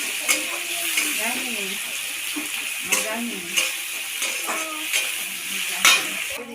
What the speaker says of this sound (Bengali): এগুলো ভালো করে লাল করে ভেজে নেব।